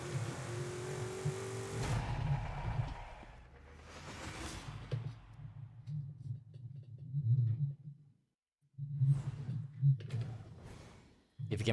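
A car engine, a DeLorean or Lancia Stratos in the Forza racing video game, drones and revs at a steady low pitch through most of the stretch, cutting out briefly near the end, as players talk and sigh over it.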